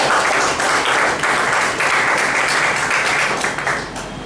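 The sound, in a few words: audience applause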